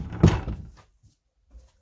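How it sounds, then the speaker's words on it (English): A door swings closed with one muffled thunk, followed by a short quiet and a faint soft knock. "let me close the door because I'm recording"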